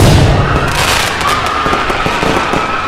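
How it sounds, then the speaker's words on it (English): Fireworks set up in a park go off at random in every direction: a dense, loud crackle of bursts and pops overlapping with scattered sharp bangs, continuous for the whole stretch with no talking. "all the fireworks stationed in the park started going off randomly in all directions"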